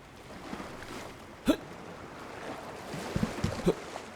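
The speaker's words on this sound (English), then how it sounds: "we can hear that jump sound effect" A jump sound effect for a third-person character in a Unity game demo using Wwise rings out as a short, sharp burst near the start, followed by a few softer, scattered thuds over faint background hiss.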